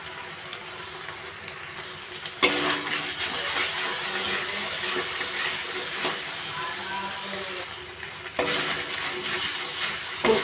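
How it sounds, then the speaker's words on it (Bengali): Masala of ground cumin, coriander and dried chilli sizzles in oil in a pan, a steady close frying hiss with soft stirring scrapes, growing louder after a couple of seconds and running throughout. "কষতে কষতে মশলার থেকে সুন্দরভাবে তেল বেরিয়ে গেছে"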